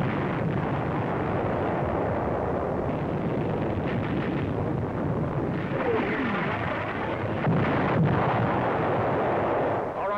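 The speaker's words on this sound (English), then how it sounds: "Our artillery begins to find the range." Artillery fire and shell explosions in North Africa in 1943, a continuous rumbling barrage of distant booms and blasts layered over one another, steady and heavy throughout with no voices.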